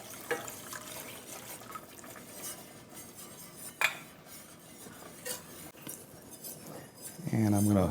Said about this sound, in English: Continue to stir it.